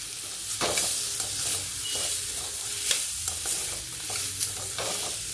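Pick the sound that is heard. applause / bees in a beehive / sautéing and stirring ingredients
sautéing and stirring ingredients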